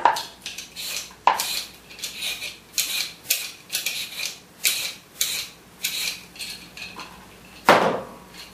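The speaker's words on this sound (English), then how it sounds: "And then peel the carrot." A peeler scraping down a carrot in a kitchen, a close, steady series of short rasping strokes in an even rhythm, about a dozen in all, with no talking.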